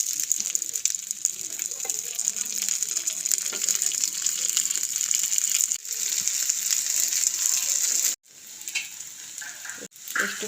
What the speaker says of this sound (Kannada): ಈಗ ಕಾಯಿಸುವ. ಸ್ವಲ್ಪ ತೆಂಗಿನೆಣ್ಣೆ ಹಾಕ್ತೇನೆ.